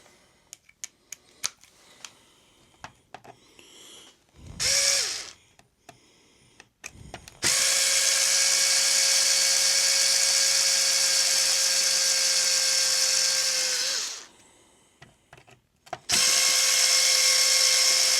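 A powered screwdriver backs out 2mm screws from a Traxxas Mini Maxx RC car, whirring in two long steady runs between bursts of small clicks and taps as the screws and parts are handled.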